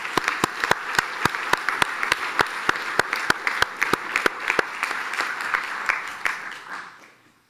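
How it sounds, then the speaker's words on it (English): Audience applause at a university convocation for the Faculty of Arts and Social Science, a sharp repeated clap close to the mic over a softer crowd of hands, fading out at the end. "but I'll ask you to give him a round of applause"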